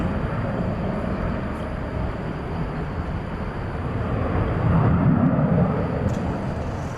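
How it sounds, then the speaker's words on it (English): An Airbus A320neo airliner at DFW Airport at night, a loud steady roar of jet engines that swells midway, heard from a distance outdoors. "Flight 2564 from Los Angeles, an Airbus A320neo."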